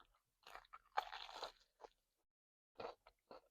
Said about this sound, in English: That is a solid crunch on fried chicken.